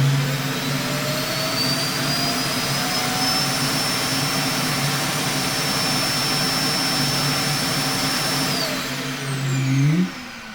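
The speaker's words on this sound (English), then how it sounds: "what you just heard was the Roomba emptying its dustbin" An iRobot Roomba i7+ docking base auto-empties the robot's dustbin with a loud, steady vacuum roar and high whine close by. It holds evenly for about nine seconds, then the pitch slides and the noise winds down.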